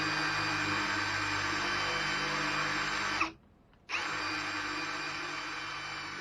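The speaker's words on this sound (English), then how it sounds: "one of the first things I had to do was drill holes that bolts could go through" Power drill boring bolt holes through a wooden shelf bracket for drawer sides, a steady loud whine running continuously, cutting off for about half a second midway, then resuming at the same pitch.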